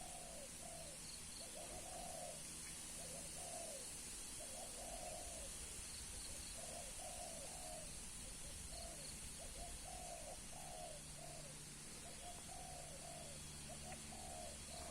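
Large dove cooing in a forest, a soft repeated coo phrase heard at moderate distance over steady hiss and insect drone, continuing rhythmically throughout.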